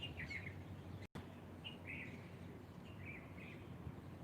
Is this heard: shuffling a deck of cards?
no